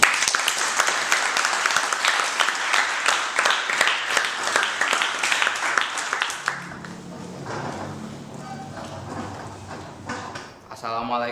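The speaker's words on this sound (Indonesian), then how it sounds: "Beri tepuk tangan buat kelompok ini." Classmates applaud a student group after its presentation, with rhythmic, fairly close clapping for about six seconds before it gives way to murmuring and talk.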